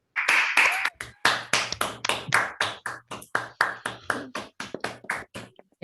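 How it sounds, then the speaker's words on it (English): Online participants applaud to mark International Women's Day, a string of sharp, fairly loud separate claps in a steady rhythm, sounding like one or a few people clapping close to their microphones, with no talk over them. "a big round of applause to all women"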